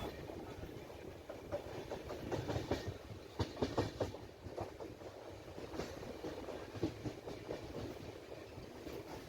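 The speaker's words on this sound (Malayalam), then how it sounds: "ട്രെയിൻ പോവുകയാണ്." A passenger train rolls along the rails past Sasthamkotta station in Kollam, its wheels clattering in a faint, rhythmic clickety-clack that rises and falls, with no one speaking.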